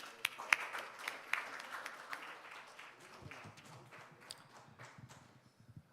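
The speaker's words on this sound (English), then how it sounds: "Please welcome him with a big applause" Audience at a forum luncheon in Seoul applauding to welcome a speaker to the stage, a moderate patter of clapping that thins and fades away over several seconds.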